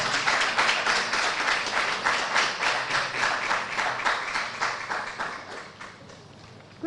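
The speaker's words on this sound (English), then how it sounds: "let's welcome with a round of applause, Professor Audrey Gadjeti" A university audience in Ghana applauds to welcome a professor at a women-in-media report launch, a loud burst of rhythmic clapping that gradually thins and fades toward the end, with no voices over it.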